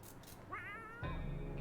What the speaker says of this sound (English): Now Timmy wants to play with the cat